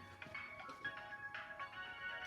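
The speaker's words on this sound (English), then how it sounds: "stupid phones ringing" A phone rings faintly in the background with a thin, repeating electronic tone that rises and falls over a couple of seconds.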